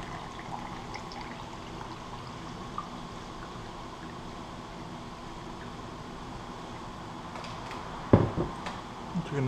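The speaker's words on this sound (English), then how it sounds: "Going to add a glass of water." Water from a glass is poured into an MRE flameless ration heater bag for a beef ravioli meal, a steady close trickle that ends in a brief rustle of the bag.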